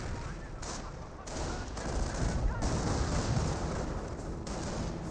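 Artillery and gunfire rumble through a Company of Heroes 1 multiplayer match, with dense, overlapping bursts and blasts forming a continuous battle din at moderate level and no talk over them.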